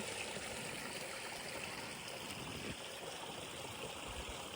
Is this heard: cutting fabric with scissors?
no